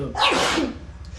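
One sharp, loud sneeze bursts out close by, a quick hissy explosion lasting under half a second before fading into a low background hum.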